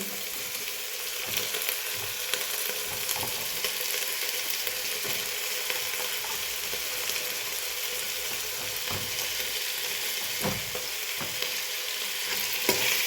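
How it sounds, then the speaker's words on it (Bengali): Onions and green chillies frying in oil for a mixed vegetable sabji, a steady close sizzle with scraping stirs and occasional clinks throughout, no talking. "আমি আমার বাকি পেঁয়াজগুলো আমি দিয়ে দিচ্ছি, সাথে কাঁচামরিচ দিয়ে দিচ্ছি"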